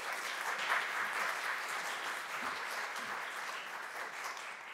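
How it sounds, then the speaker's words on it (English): An audience at an academic panel on biography and history applauds the panelists, a steady wash of many hands clapping in a hall, moderately loud and unbroken throughout. "Please give our panelists an applause."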